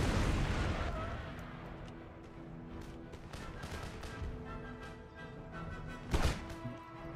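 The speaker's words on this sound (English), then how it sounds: "Rockets inbound." A rocket barrage in Empire Total War, a battle game. It is a dense rumble of booms and bursts with a louder blast near the end, and soft voices run beneath it.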